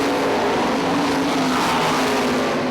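410 sprint cars roar around the dirt oval at Ionia Raceway Park, a loud, steady wall of engine noise with a sustained droning tone and no clear pauses or talk.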